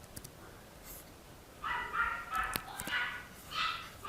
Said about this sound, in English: I have a dog barking in the background